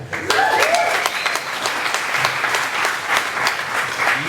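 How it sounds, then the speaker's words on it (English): An audience claps for a friend nicknamed Beer Lover, dense steady applause filling the room for about four seconds, with faint cheers and chatter mixed in. "Let's all have a clap for Beer Lover."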